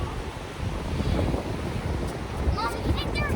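Wind and surf rolling at a beach on a mild 70-degree day, a steady broadband wash with gusty buffeting against the microphone, while a voice chimes in near the end.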